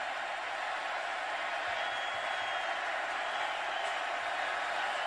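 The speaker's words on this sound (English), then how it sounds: "Crowd really getting into it right now for the Bears defense." A football stadium crowd roars steadily for the Baylor Bears defense during a 2012 game against Kansas State, a broad, sustained wash of cheering that holds at a constant loud level throughout.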